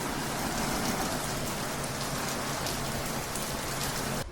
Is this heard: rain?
yes